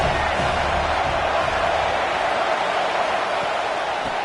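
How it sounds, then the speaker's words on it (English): A college football stadium crowd at Utah roars in a steady, dense wall of noise that stays constant and loud throughout. "This crowd trying to make life miserable for this offense."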